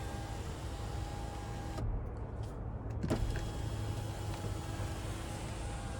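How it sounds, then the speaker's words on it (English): Sunroof of a 2024 GMC Canyon AT4X tilting and sliding back, a steady electric motor whir inside the cab lasting several seconds, with a brief click near the middle. "And then we can tilt or slide the sunroof back."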